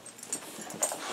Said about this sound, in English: My dog is excited because Bruce is up from his nap